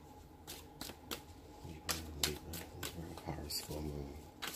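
Tarot cards are shuffled in a run of quick, close riffling bursts and taps, with a voice speaking faintly underneath.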